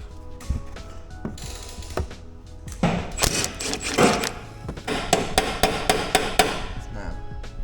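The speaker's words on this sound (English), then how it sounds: "Some of this stuff and a few taps of a hammer." Sharp metallic hammer taps on a sticky Land Rover mechanism, scattered at first then a quick run of clustered strikes, close and fairly loud with faint ringing.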